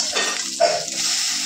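An egg sizzles and spits in a little oil in a pan, a close, steady crackle with a brief scrape partway through.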